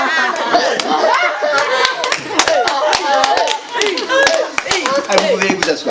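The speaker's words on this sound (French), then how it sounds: "Bravo, ouais, ça on peut les applaudir quand même" A small audience claps in a lively burst of applause that carries on throughout, mixed with chatter, a few voices talking and light laughter nearby.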